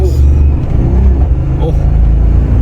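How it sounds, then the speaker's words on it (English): A car drives past with a loud, steady rumble and whining gearbox noise underneath, while people talk over it. "now it makes all the gearbox noises"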